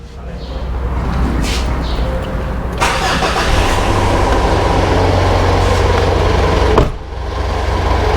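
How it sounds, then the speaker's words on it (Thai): A Mitsubishi Pajero Sport's 4D56 diesel engine cranks and catches, then settles into a steady, loud, clattering idle close by, with a brief dip near the end and someone speaking over it. "นี้ก็สตาร์ทเครื่องนะครับ มีเสียงเด็ดเดดเดดนิดนึง"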